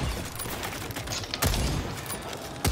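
Gunfire from a weapon in the video game Second Extinction, loud and continuous as a dense barrage of shots with a few heavier bursts standing out.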